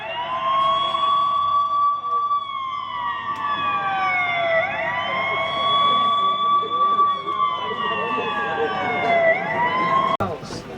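An ambulance siren wails loud and close during a workplace safety drill, its rising and falling tone sweeping repeatedly over a low rumble before cutting off near the end.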